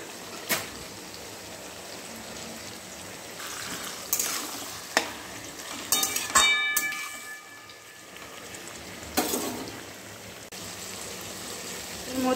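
Capsicum and onion frying with chili powder, a low sizzle broken by several scraping stirs and clinks of a utensil against the pan at irregular intervals, no talking.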